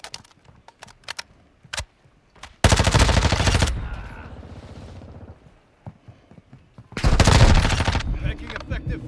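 The Lachmann Sub fires in Call of Duty Modern Warfare II: two loud, rapid automatic bursts, each about a second long, separated by quieter clicks and ambient game noise.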